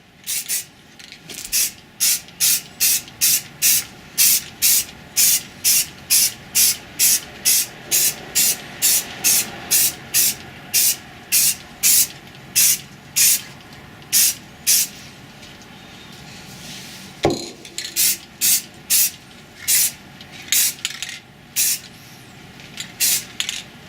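Sand-colored base coat spray-painted onto an MK18 rifle in a rapid series of short, sharp aerosol hisses, close and loud, pausing briefly mid-way before resuming bursts.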